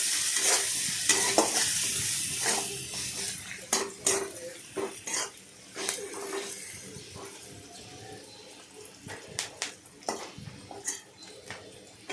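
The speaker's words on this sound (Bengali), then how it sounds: "পেঁয়াজটাকে ভালো করে নাড়াচাড়া করে ভাজলাম" A utensil scrapes and clatters against a pan in irregular strokes while onions sizzle steadily underneath as they fry with a little turmeric, close and fairly quiet.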